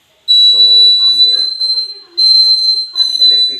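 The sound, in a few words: electric circuit buzzer wire game siren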